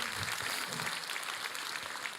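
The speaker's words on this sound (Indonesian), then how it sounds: "Berikan tepuk tangan kita untuk Tuhan kita" Church congregation applauding in praise of God after a sermon, a steady dense wash of many hands clapping at once, sustained and fairly even throughout with no voices standing out.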